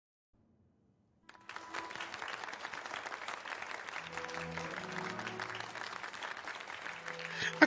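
Audience applause for a performer on stage in a video game, starting abruptly after a second of silence and holding as a dense, steady clatter of many clapping hands, with faint low tones underneath.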